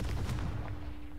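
Confringo fire spell blast in the video game Hogwarts Legacy, a brief, muffled booming burst that rumbles and then fades over about a second.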